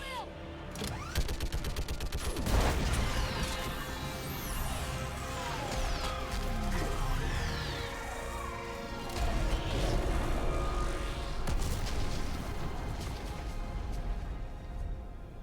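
Rapid gunfire and heavy impacts ring out in a video game firefight against a live Reaper, dense crackling bursts and metallic crashes running continuously for about fifteen seconds under loud combat noise.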